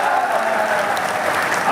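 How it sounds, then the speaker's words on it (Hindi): A brief burst of loud, dense applause from a large crowd at a public gathering addressed by a chief minister, continuous and close. "ताली एक बार और जोर से बजाओ तो हाँ कर देता हूँ।"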